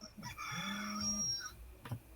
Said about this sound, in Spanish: Hoy estáis con la gallina. No, es una alarma en mi celular.